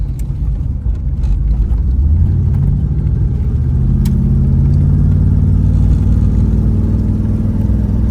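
A 1984 Chevrolet Camaro Z28 engine pulls hard under acceleration, its loud low rumble rising steadily in pitch from inside the car, with no talk.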